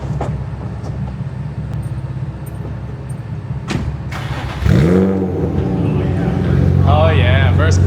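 A car engine cranks briefly and then catches, rising into a running idle with a revving note, heard up close after some background noise and clicks.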